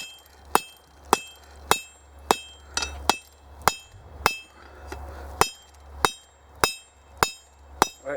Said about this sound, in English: This is going to be a lot of hammer work